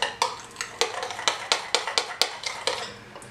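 Hollandaise sauce seasoned with cayenne is stirred in a bowl, making a run of sharp, evenly paced clinks and scrapes of the utensil against the dish, close and with no talking.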